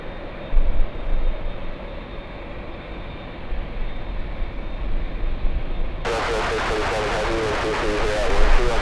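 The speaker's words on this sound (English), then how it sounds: "Dreamliner landing up" A Boeing 787 Dreamliner comes in to land at Los Angeles International Airport. A broad jet engine roar rises in the distance, with a voice talking over it throughout and a louder, brighter rush toward the end.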